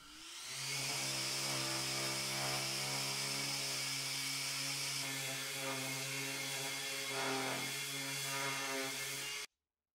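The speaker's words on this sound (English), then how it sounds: "I give everything a sand down" A powered sander works down wooden frames for a clothes rail, making a loud, continuous droning whine that holds steady for several seconds and then cuts off abruptly.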